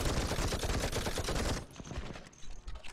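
Dense, rapid machine gun fire in the video game Call to Arms roars loudly for about a second and a half, then cuts off, leaving quieter scattered shots and battle noise.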